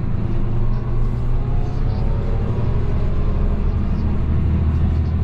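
A Fendt 936 Vario tractor's engine gives a steady, loud, low rumble as it drives off, with a continuous drone throughout and little change in pitch.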